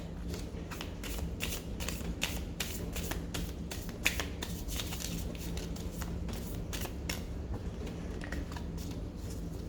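Tarot cards being riffle shuffled repeatedly up close, a quick run of crisp flicking and riffling bursts, fairly quiet with no talking.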